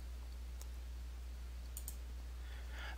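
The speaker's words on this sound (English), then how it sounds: "then click the OK button" A computer mouse clicks the OK button while working in Sage 50 2014 accounting software: a few soft, isolated clicks, faint and close over a quiet background hiss, with no talking.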